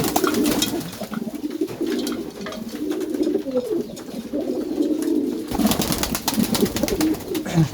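Domestic pigeons cooing steadily on a farm, a continuous close chorus of soft, throaty low coos overlapping one another with no speech.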